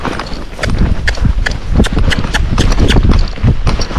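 A Marchador cross horse canters, its hooves pounding out a fast, rolling three-beat rhythm, loud and close over scuffing ground noise and a little breathing.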